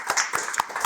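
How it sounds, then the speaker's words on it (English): A small group claps at a kids' leadership program event, sparse separate hand claps in an uneven rhythm, close and fairly light, with no talking over them. "Let's clap for them"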